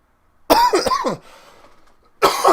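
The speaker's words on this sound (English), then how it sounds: "Had me coughing" Someone coughs loudly and close by in a quick burst, then clears the throat, followed by a pause and another cough.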